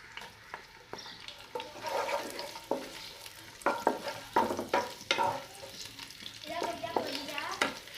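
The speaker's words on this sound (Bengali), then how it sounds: "সবগুলো উপকরণ একটু ভালো করে ভেজে নেব যাতে কাঁচা স্মেলটা চলে যায়" Chopped onion and ginger-garlic paste frying in a pan, with a low sizzle under frequent close scrapes and clatters of a spatula stirring in uneven bursts. There is no talking.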